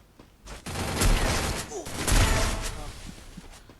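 Rapid bursts of gunfire in an online shooter video game, several loud volleys in quick succession with faint voices among them.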